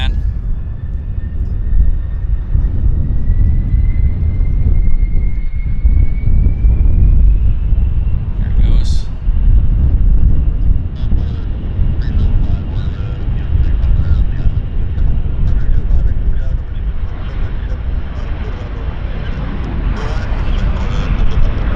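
Airliner taking off at Vancouver International Airport, a sustained, loud engine roar with a rising whine, heavy low rumble throughout and a brief sharp noise midway.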